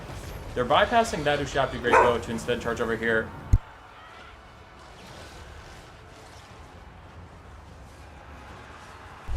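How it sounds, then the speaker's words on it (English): A dog barks in a quick run of yips and barks close by, mixed with a voice commentating on a tabletop wargame, before the barking stops and the room falls quiet. "I'm very sorry about the dog barking."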